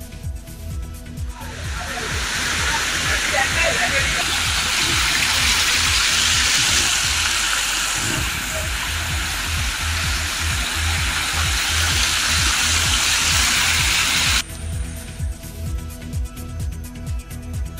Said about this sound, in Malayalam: കോട്ടയത്ത് രാവിലെ മഴ മാറി നിന്നെങ്കിലും ഇപ്പോൾ ശക്തമായ മഴ.